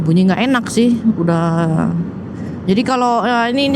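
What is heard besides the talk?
No distinct noise like a dog, phone or traffic.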